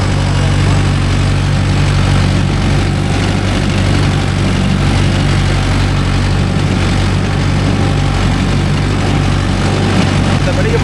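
A Mahindra Yuvo Tech Plus 585 4WD tractor engine runs steadily with a loud, low diesel drone and constant rumble while pulling a 5-point cultivator, unbroken for the whole stretch.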